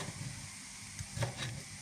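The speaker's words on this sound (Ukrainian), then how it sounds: "Морква смажиться." Quiet frying of carrots in a pan, a soft steady sizzle with a few faint stirring scrapes.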